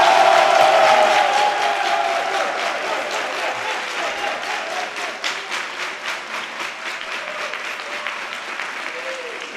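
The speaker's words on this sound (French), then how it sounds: "On va l'applaudir." An audience applauds Cyril Tonsou at a live stage show, dense sustained clapping that starts loud and slowly thins, with a voice briefly heard at the start.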